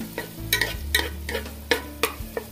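Ginger garlic paste frying in a pan for Andhra-style fish curry, a steady sizzle beneath repeated scraping strokes of a spoon, about eight sharp stirs spread evenly, close and clear with no talking.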